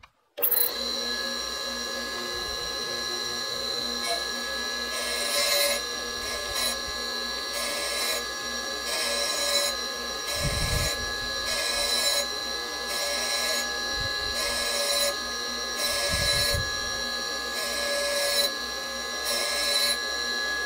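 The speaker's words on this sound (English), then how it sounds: "I have the diamond dresser in place, ready to dress this wheel." A diamond dresser works a grinding wheel on a grinding machine, a steady mechanical whine and hum with rhythmic pulsing passes and a couple of brief low thumps, all close and continuous.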